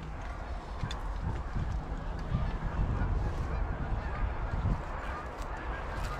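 A flock of Canada geese honking during a waterfowl hunt, many overlapping honks from birds at a distance in the field, with some wind noise and rustling, and faint voices now and then.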